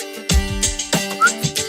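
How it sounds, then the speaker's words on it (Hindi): A person whistles several short, close, clear notes in quick succession, with small gaps between the bursts. "कहा ना सीटी बजाओ"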